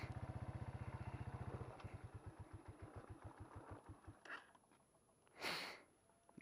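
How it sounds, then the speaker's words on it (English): A motorcycle on a mountain in Yemen struggles to start, its engine chugging in a fast, even rhythm that slows and stutters before dying out, followed by a brief rushing burst. "The bike's having a hard time to start."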